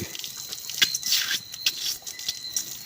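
Water dripping and splashing at close range, with several irregular, soft wet taps and a faint running trickle over about three seconds, and no voices.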